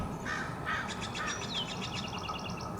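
A distant eagle gives a series of repeated high, piping calls, while nearby smaller birds caw and chatter as they mob a large bird outdoors.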